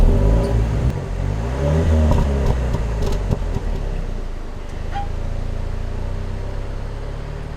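A Jaguar F-Type engine starts, rumbles and revs up close, with throaty acceleration in the first seconds, then settles into a steady cruising drone.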